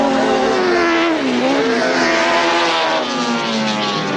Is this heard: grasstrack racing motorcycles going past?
yes